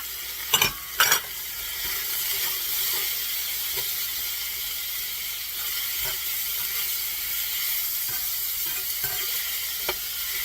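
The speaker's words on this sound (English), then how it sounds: "And my mushrooms. And the peppers. And we'll mix this all together." Sausage, mushrooms and peppers sizzle steadily in a hot pan while a spoon stirs them, with a couple of sharp knocks at the start and occasional faint scrapes over the constant frying hiss.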